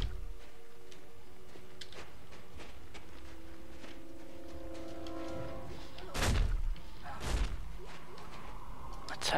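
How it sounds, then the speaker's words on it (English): Crates being smashed in Dead Space 3, two sharp, heavy cracking impacts about a second apart over a low ambient drone, with a few softer knocks before them. "let's break some of these boxes"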